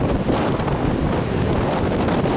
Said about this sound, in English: The wind's probably really bad